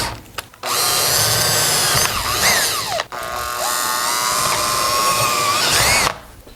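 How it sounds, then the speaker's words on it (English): A power drill whines steadily as it bores an 11 mm hole into metal while building a racecar, close and loud, with a brief pause midway before the grinding resumes. "So we'll drill an 11 just to give ourselves some space"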